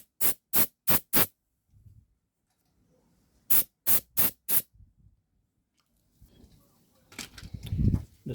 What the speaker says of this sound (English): So a little bit of compressed air.